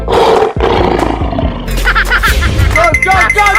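A lion roars loudly in a 3D animal slide game, a single sustained growling roar over busy game music and effects.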